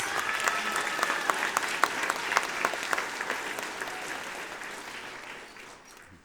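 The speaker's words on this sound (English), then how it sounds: "would you give them a round of applause?" Audience applause at a spring school music program after two student performers are recognised; steady, fairly distant clapping from a crowd that holds for several seconds and slowly fades.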